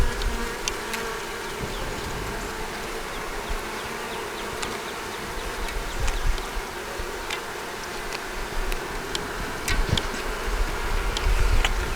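Honey bees swarm around an open beehive, producing a continuous dense buzz with individual insects zipping close past now and then, steady and unbroken throughout.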